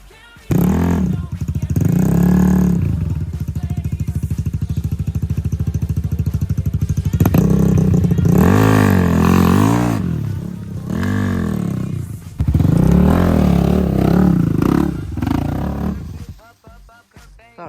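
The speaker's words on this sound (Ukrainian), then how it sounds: "Іван у нас тільки що проїхав другий раз, а другий Іван перший раз їде" An off-road vehicle roars and labors along a swampy track, its engine revving hard and surging in long loud bursts, with brief drops between pushes.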